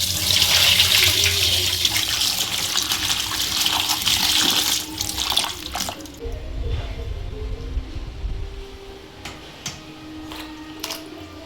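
Running tap water rinsing brinjals in a kitchen, a loud steady gush close by for about six seconds, then softer splashing and handling of the vegetables as the flow eases.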